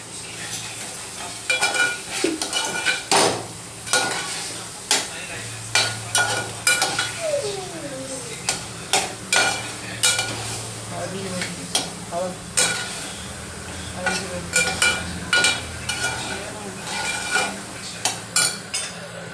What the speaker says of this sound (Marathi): पाच ते 7 मिनिटं मसाला परतून घ्या